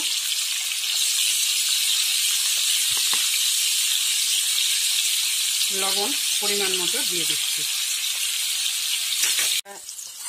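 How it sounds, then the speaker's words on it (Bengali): Potatoes and squash frying together with a little turmeric in a pan, a loud, continuous hiss of hot oil running unbroken under a brief voice speaking near the end. "আলু আর কোয়াশ একসঙ্গে ভেজে নেব হলুদ দিচ্ছি অল্প"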